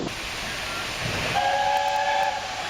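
A departing passenger train with a steady rumbling roar, joined midway by a sustained steam whistle blast of about a second.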